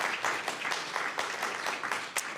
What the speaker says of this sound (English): Yes, round of applause for Peggy.